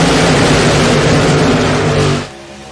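Race cars in a sim racing game roar at a loud, dense engine drone as they accelerate at a green flag restart, then the sound drops away sharply near the end.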